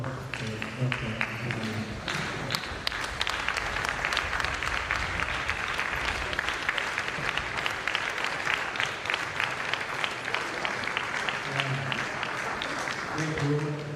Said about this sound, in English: we once again rise and give a sounding round of applause to Dr.